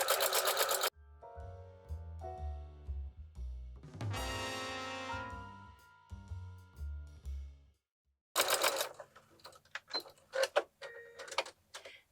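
A sewing machine whirs in close, stop-start runs as it stitches the pocket of an insulated reusable bag, with brief mechanical clicks between the bursts and a short silent gap.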